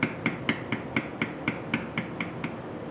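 Steady, evenly spaced taps strike a metal beveler tool into leather, about four crisp knocks per second, close and moderately loud over a faint background hiss.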